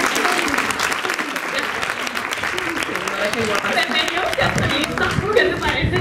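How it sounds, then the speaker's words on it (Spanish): Theatre audience applauding a costumed performance of a comedy about a countess and future queen, a dense steady patter of many hands with crowd murmurs and a little laughter mixed in throughout. "Y aplaudirle más fuerte"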